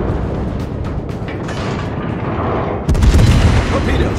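Naval gunfire from a heavy cruiser in a warship combat game: a steady rumbling barrage of distant blasts gives way to a louder, close, booming salvo near the end.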